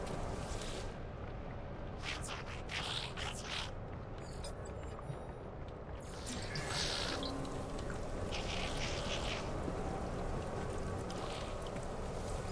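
Alien amphibian bird creatures in No Man's Sky call with repeated squawking, quacking bursts over a steady wash of outdoor ambience, fairly close and loud.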